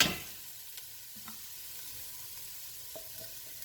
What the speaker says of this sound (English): if you are using canned corn, you don't really have to saute it, but this is fresh corn, so I want to give it a head start